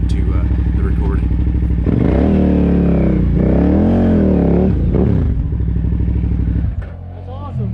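Big adventure motorcycles riding a single track trail, a loud nearby engine revving and accelerating with a pulsing, rising and falling drone and clattering as it passes, with people talking over it.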